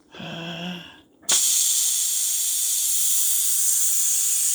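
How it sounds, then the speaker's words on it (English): An Emeril pressure cooker vents steam after cooking pasta, opening with a sudden sharp burst into a loud, steady, continuous hiss that holds unbroken; faint voice-like murmurs precede the release. "we're gonna let it de-steam"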